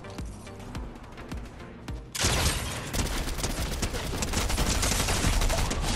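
Video game gunfire in a map area called the Collider, sparse sharp shots at first, then a dense, loud burst of rapid automatic fire that keeps going.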